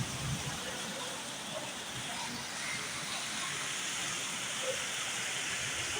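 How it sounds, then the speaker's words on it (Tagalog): Steady, dense rush of heavy rain falling continuously in Egypt, a broad hiss with no breaks, moderately loud and enveloping. "First nga rain, unang ulan this year sa Egypt."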